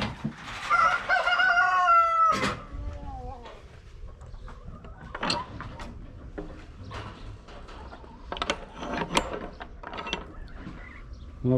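Quails in their enclosure give a loud, close, rising call, then a scattering of shorter chirps and clucks, with clanking mechanical noises from the opened cage in between.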